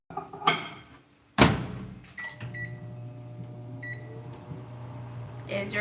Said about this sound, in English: Now we're gonna microwave.